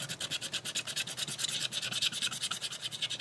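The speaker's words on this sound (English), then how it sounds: "Kind of rub on it. And it stretches the metal." Thin metal sheet being rubbed with an embossing tool to stretch it into a Christmas gnome ornament, a quick, even series of close scratchy strokes with no talking.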